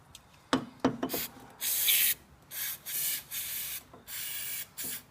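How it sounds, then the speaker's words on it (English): Repeated hissing bursts of aerosol cleaner sprayed into a Briggs & Stratton Quantum carburetor, several short and long blasts in succession, close up, with a few clicks and knocks at the start. "probably just give a bit of a spray in this hole here in the carburetor and this hole"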